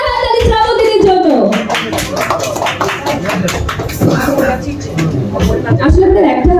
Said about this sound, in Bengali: একটা জোরে হাততালি শ্রাবন্তীর জন্য।